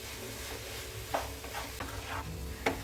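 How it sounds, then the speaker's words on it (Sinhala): A mashed-potato roti filling is stirred in a pan with a low sizzle underneath. A few distinct scrapes of the spoon stand out against the steady background. "අල ටිකක් දාලා හොඳට කලවම් කරගන්න"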